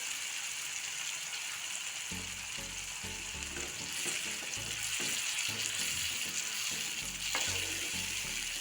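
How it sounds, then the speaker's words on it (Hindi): Spices and tomato puree fry in oil with a steady sizzle, broken by repeated rhythmic scraping strokes of stirring that come close and loud. "इन मसालों को तेल अलग होने तक भून लेंगे"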